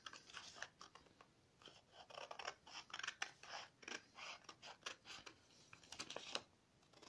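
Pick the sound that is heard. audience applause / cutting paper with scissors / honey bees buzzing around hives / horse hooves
cutting paper with scissors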